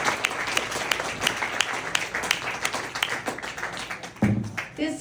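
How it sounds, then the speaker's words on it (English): An open mic night crowd gives a poet a round of applause, many hands clapping in a fairly close, sustained burst that thins toward the end, with a few louder nearby claps. "Let's give her another round of applause."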